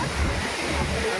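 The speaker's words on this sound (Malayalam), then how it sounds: "ഈ കല്ലിലിങ്ങനെ വെള്ളം വന്ന് അടിക്കുമ്പോഴേ തെറിക്കാണ്" Seawater surges against the rocks on the shore at Fort Kochi, throwing up spray: a dense, steady rush of surf with low rumble and wind buffeting close to the microphone.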